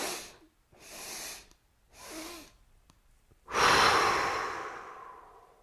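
Vigorous yoga breathing exercise done seated in a chair, with three short forceful breaths through the nose followed by one long, loud exhale, close and clear with no talking.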